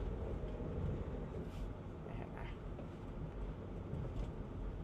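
A van accelerating on the road, heard from inside as a steady, loud, broadband engine and road rumble with wind noise that holds level throughout, with no talking.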